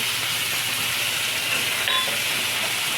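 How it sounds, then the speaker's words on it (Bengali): Chopped onion fries in hot oil with tempering spices for a hilsa-head and Malabar spinach chorchori, giving a steady, close, even sizzle and hiss with no voices. "পেঁয়াজটা একটু ভালো ভাজা হয়ে গেল"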